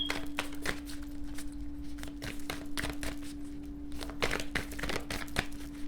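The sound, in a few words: shuffling a deck of cards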